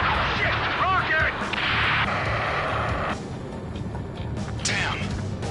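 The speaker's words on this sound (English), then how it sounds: "Rocket!" Rocket explosion and heavy combat in the Ace Combat 7 video game: a dense, loud roar of blasts and booming fire with rumbling that stays continuous, broken by bursts of gunfire-like impacts.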